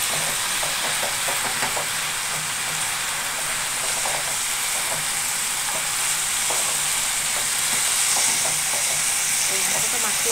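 Banana flower curry cooks in a pan, a steady, close frying sizzle and steamy hiss with faint stirring clinks, continuous and even throughout.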